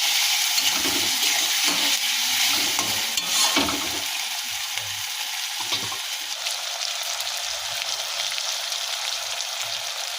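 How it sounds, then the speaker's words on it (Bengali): Spices and salt frying in a pan while being stirred for a home-style dal muri, with a continuous hissing sizzle and soft scraping strokes of the spoon throughout, close and fairly loud. "লবণ দিয়ে দেবো দিয়ে আবার নড়াতে থাকবো ভালো করে কষিয়ে নিতে হবে"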